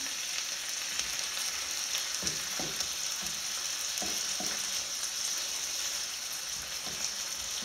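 Squid cooked Spanish-style with tomato concentrate sizzles and crackles steadily in a frying pan, a close, even hiss with a few soft stirring knocks mixed in.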